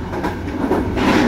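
A train runs along the railway line near Ferencváros in Budapest, approaching the southern connecting railway bridge, giving a steady, loud rumbling roar close by with no voices.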